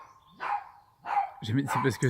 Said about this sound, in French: c'est le chien de mon voisin qui aboie.